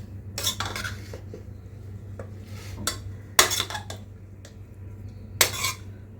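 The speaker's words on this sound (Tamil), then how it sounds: "அப்படியே சாப்பாடு சூடாக இருக்கும்போது இவனை அப்படியே போட்டு கிண்டி விட்டுக்கலாம்" Hot lemon rice with coriander leaves is stirred in a metal pot, a few sharp spoon clinks and scrapes at irregular intervals over a low steady background hum, with no talking.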